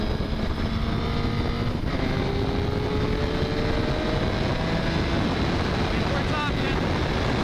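A 2015 Suzuki GSX-R1000 sport motorcycle engine drones and climbs in pitch as it accelerates at speed, buried under heavy, steady wind rush.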